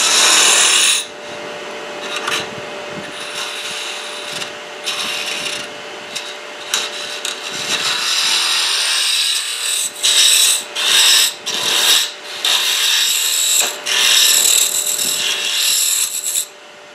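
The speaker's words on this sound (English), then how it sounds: "I moved to work on the exterior with a gouge" Spindle gouge cutting the exterior of a small wooden goblet spinning on a lathe, a hissing, scraping rasp that comes in repeated bursts of varying length over a faint steady motor hum, close and fairly loud.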